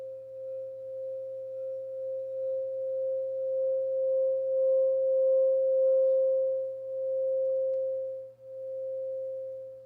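A pure, sustained crystal singing bowl tone at 528 hertz rings steadily for about ten seconds, swelling slightly and wavering in volume, with no voices.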